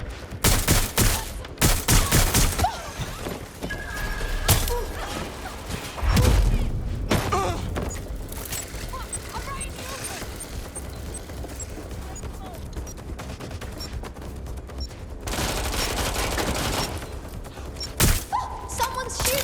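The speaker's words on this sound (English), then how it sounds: "Someone's shooting." Bursts of gunfire, including rapid fusillades and heavy thuds, from a Watch Dogs mission; the shots come in clustered volleys across the clip over a busy game soundtrack, with some speech mixed in.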